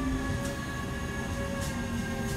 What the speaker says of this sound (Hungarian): Egész nap járt a vonat